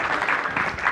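An audience at an early-childhood education training session claps briefly, a short burst of close clapping.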